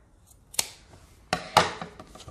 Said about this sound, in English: And then I take and make an even cut for the little tassel here.